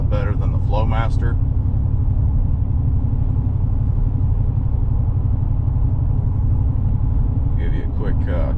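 A Chevrolet Silverado 1500 with a custom stainless exhaust idles in a steady, deep, close rumble, with brief talk at the start and end.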